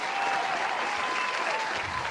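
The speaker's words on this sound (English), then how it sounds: "Got some sound effects, some clapping." Canned applause sound effect plays on a comedy show, a dense, steady crowd clapping that fills the whole stretch at close, even loudness with no talk.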